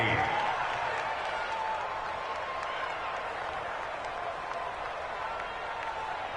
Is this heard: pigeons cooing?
no